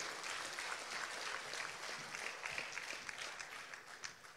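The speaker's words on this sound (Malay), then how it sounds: "saudari Michelle Ng, berikan satu tepukan kerana mereka datang dari jauh." Audience at a DAP party convention in Penang clapping for guests, a dense, steady round of applause from a large crowd that holds evenly throughout.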